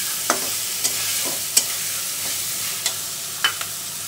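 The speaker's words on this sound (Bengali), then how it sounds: "মাছগুলি দিয়ে বেশ একটু কষিয়ে তারপরে আমি মাছগুলো তুলে রাখবো।" Tengra fish stir-frying in a karai with a little oil while being cooked with taro, a steady close sizzle broken by sharp spatula scrapes at irregular intervals, with no voices.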